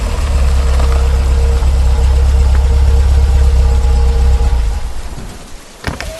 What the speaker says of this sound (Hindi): चलते चलते उन्होंने देखा कि पीछे से एक गाड़ी उसके पास आकर रुकी।